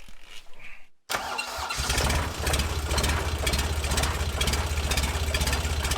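A car engine cranks and catches after its starter is jumped with the electronics bypassed, then settles into a steady, loud, close idle with a rhythmic low throb; brief background noise comes just before the start.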